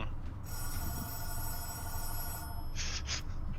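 Telephone ringing during a tabletop dice game session, a steady electronic trill with bright tonal harmonics sustained for about two seconds, then short separate ring bursts, heard over low background room noise.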